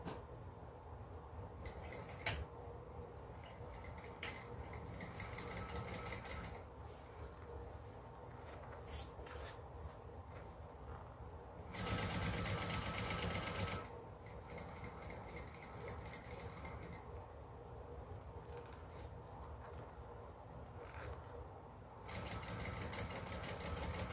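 A sewing machine top stitches along the folded edge of a fabric bag, a steady mechanical whir running in long stretches with brief pauses and louder bursts, close and continuous.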